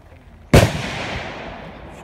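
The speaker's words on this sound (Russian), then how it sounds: "Слышите, там уже стреляет народ." A single loud gunshot cracks out at a shooting range club, close and sharp, followed by a long fading echo that rolls away over the next second and a half.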